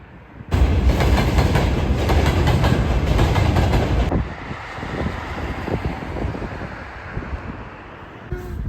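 A train at Gori railway station rumbles past loud and close, a steady heavy roar that drops to a quieter rolling clatter as it moves on.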